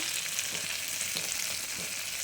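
Chopped vegetables with tomato frying in hot oil, a dense continuous sizzle close up with faint stirring scrapes and no speech.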